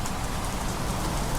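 Steady, dense rain hisses down through a misty forest, an even, unbroken wash of drops with no pauses, voices or other sounds.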